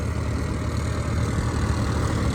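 A tractor engine labors under load, a steady, dense low rumble that is loud and close and runs unbroken throughout, with no voices.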